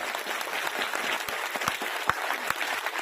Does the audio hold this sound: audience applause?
yes